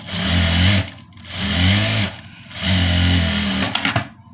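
A tailor's sewing machine stitches a churidar sleeve joint in three loud, steady motor bursts of about a second each, separated by short pauses, with a faint clatter at the end and no talk.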